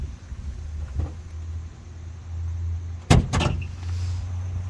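Hood of a 1986 Chevrolet Monte Carlo SS with 11k miles being opened, two sharp metallic clunks of the latch and hinge over a low steady idle-like hum.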